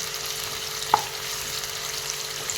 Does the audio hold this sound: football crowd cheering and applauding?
no